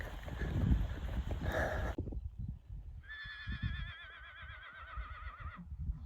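A horse lets out a long, wavering whinny at moderate distance, following some rustling and thumping nearby, with faint clopping underneath.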